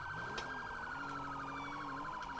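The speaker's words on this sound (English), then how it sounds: "You hear my siren?" Police car siren in the video game FivePD, wailing steadily and loudly in a continuous rising-and-falling pattern with an electronic tone, heard alone without talk.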